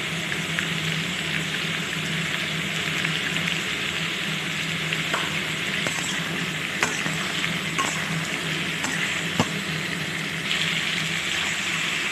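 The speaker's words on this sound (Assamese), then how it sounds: "এয়া মাংস আৰু মূলা ভাজিকণ দেখিছে নহয়, মূলা মাংসৰ লগত মিলি গৈছে।" Pork, radish and potato fry together in a pan with salt and turmeric, giving a loud continuous sizzle with occasional sharp clicks and scrapes from stirring, no talking.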